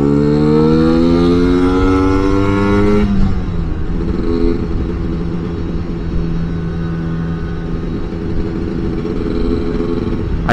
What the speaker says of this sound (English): I've got a motorbike behind me somewhere, there he is.